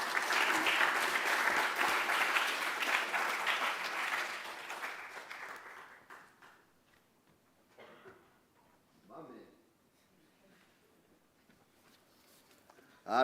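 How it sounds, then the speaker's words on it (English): Crowd applause at a school spring sports awards ceremony, loud and sustained at first, then fading out over several seconds, followed by a quiet room with a cough and faint murmuring. "Clap for Jackson."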